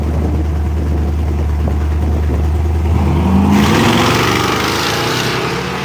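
The blown engine of a 1957 drag race truck roars at the launch, loud and sustained, its pitch sweeping upward as it accelerates down the track.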